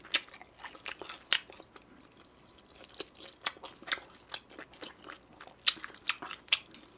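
Sweet and sour pork being bitten and chewed up close, with crisp crunches and wet smacking bursts at an irregular rhythm, fairly quiet, no talking.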